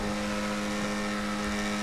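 Tuned exhaust on a Vectre sports car in GTA Online, after engine tuning level 4, gives a steady close engine drone with a strong low hum, held evenly and without clear rev peaks.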